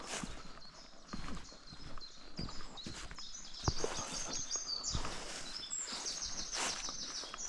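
Horse hooves clip-clop at an uneven walking pace over outdoor hillside ground, with birds chirping and calling throughout.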